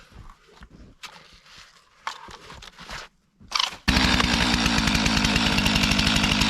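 A chainsaw warming up before a tree is felled: scattered handling noises and brief bursts, then the engine roars into a loud, steady, buzzing idle that runs to the end.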